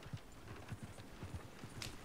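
Horses trotting in the open-world western game Red Dead Redemption II, a steady run of low hoof clip-clops repeating quickly over a constant background bed, with no talk.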